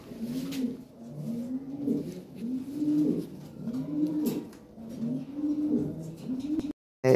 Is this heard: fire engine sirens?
no